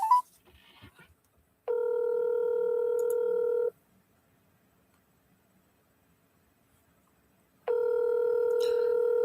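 Two bursts of steady telephone keypad tones, each about two seconds long, sound clearly during a phone call placed to a sales lead, with near silence between them.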